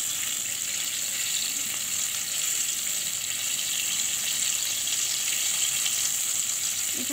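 Crispy chicken pieces fry in hot oil at low flame, a steady, even sizzle and crackle that holds close and fairly loud throughout, with no voices over it.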